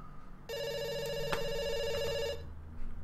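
A telephone rings with a steady electronic trill for about two seconds, fairly quiet, with a faint click midway.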